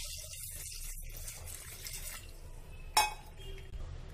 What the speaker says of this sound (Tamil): அடுத்ததான் தேவைக்கேற்ப தண்ணி.